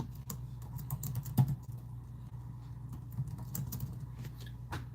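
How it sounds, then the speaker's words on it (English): Rapid typing on a computer keyboard with a faulty space bar: dense, irregular clicks and taps close by, with a few louder key strikes and no talking. "Is my keyboard working right?"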